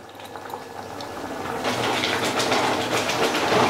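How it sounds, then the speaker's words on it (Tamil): Sweet corn masala gravy with cashew paste boils on a high flame, a steady bubbling and hissing that grows louder and denser over a few seconds. "சேர்த்துட்டு இன்னும் ஒரு 3 நிமிஷம் அது நல்லா ஹை ஃப்ளேமில் கொதிக்க விடுவோம்."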